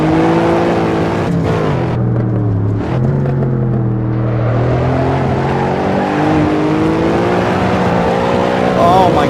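Cadillac CTS-V engine with traction control off in the Assetto Corsa racing game, roaring continuously with pitch swooping up and down as it revs, close and loud throughout.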